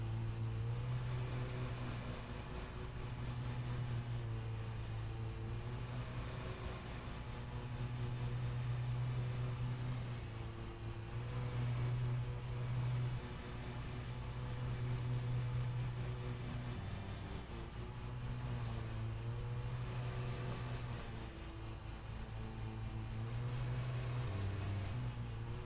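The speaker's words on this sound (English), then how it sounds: "the engine does start to make noises when it overloads" An overloaded lawn mower engine in Lawn Mowing Simulator drones steadily throughout, its low hum swelling and dipping in pitch as the load changes, with no talk over it.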